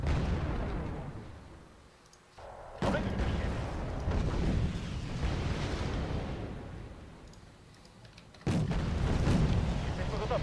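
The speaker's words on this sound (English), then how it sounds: "they are just pounding us. Can we have that fire support?" Heavy artillery barrages in the video game Wargame Airland Battle, loud rumbling booms with a sharp onset near three seconds and another around eight and a half, dense continuous bombardment filling the clip.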